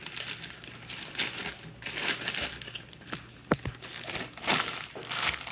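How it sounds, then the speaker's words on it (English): Crinkly plastic bag handled at close range while a chunk of all-purpose flour pasta dough is stored inside, giving soft, irregular rustles with a few sharper crackles and no talking. "just cut a chunk off, put the rest in the bag"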